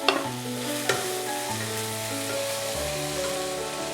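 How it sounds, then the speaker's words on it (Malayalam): Sliced onion and cubed capsicum sizzle in a hot pan for chilli beef, the frying hiss steady while a utensil stirs and scrapes with a few sharp clicks, no talk, under a soft background melody. "സവാള ഒരുവിധം സോട്ടായി വരുമ്പോൾ ഞാനൊരു ചെറിയ ക്യാപ്സിക്കം അതും ക്യൂബായിട്ട് കട്ട് ചെയ്ത് ഇതിലേക്ക് ചേർത്ത് കൊടുക്കാം"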